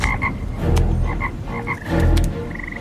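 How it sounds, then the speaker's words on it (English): A chorus of frogs croaks in repeated overlapping bursts, loud and close, with deep throaty calls and higher chirps pulsing in rough waves and no voices. "the frogs came up and covered the land of Egypt"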